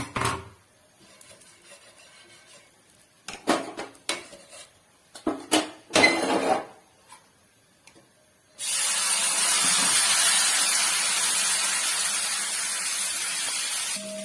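Dosa batter made from Anganwadi Pushti flour hits a hot pan with a sudden, loud, steady sizzle that runs for several seconds, following a stretch of scattered clinks and scrapes of utensils.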